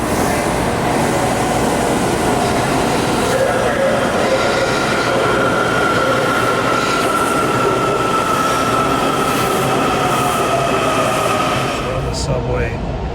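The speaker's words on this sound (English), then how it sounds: "it's a busy train station" Trains rumble steadily through a busy station in Washington DC, a loud continuous roar of wheels on rails with a long high squeal running across it, fading slightly near the end.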